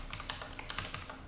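Rapid, quiet typing on a computer keyboard during compiler programming work, a steady stream of light clicking keystrokes close by with no talk.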